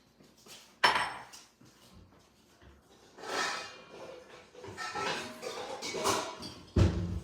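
Mixing bowls are picked up and swapped on a home kitchen counter during a live cooking demo. Sharp clanks open and close the stretch, with lighter knocks, scrapes and shuffling between them, close by and with no talking.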